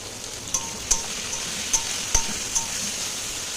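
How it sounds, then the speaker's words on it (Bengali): Potato and eggplant fry in a pan with turmeric and salt, giving a steady close sizzle broken by a few sharp clinks of a utensil stirring against the pan. "তো এবার ভালো করে আলু বেগুনটা ভেজে"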